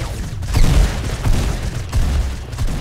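Rapid bursts of Fortnite gunfire crack out in several close, loud volleys, repeating in an uneven rhythm throughout.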